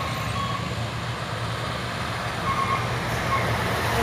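A dump truck overtakes on a steep hill road, its engine a low steady drone close by. Traffic hum carries under it and a faint beeping is heard.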